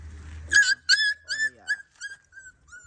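A small puppy whimpers in a series of about seven high, thin whines, each short and slightly falling. The first cries are loudest and the later ones fade softer, with a low hum underneath at the start.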